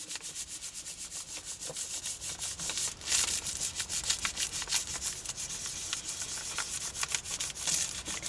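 Paper being rubbed by hand onto a gelli plate: continuous dry, scratchy friction strokes in quick irregular rhythm, close and fairly loud, with no talking.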